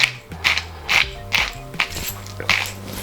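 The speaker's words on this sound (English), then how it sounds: "Then also a little bit of freshly ground black pepper." A pepper mill grinds black pepper in a series of short ratcheting twists, each a crisp, gritty burst repeated at an even pace. The grinding is close, with a soft low hum underneath and no speech.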